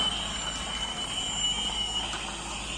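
A passing train heard as a steady, close rumble with a thin high whine running through it, continuous throughout, with no talk.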